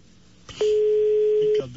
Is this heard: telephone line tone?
yes